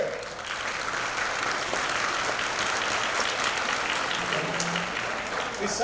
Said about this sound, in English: I want to ask you to have a round of applause for you guys to come here.